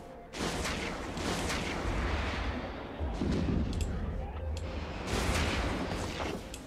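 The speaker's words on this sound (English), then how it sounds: "There he explodes." A spaceship blows apart in the space game EVE Online, heavy booming bursts rolling in three waves over a dense, continuous rumble of weapons fire.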